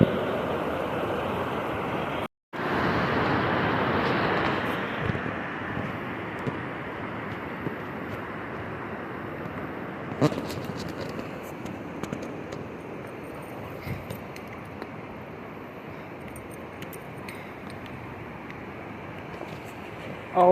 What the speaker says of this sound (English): Oh my goodness, look at the waterfall.